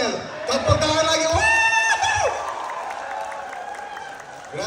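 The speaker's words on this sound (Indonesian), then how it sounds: "Tepuk tangan lagi." An audience of teachers claps at a brain gym workshop in a hotel, moderate applause mixed with voices and a few whoops, while strong sustained tones ring over it.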